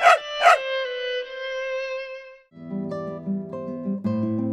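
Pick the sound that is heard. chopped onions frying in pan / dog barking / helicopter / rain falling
dog barking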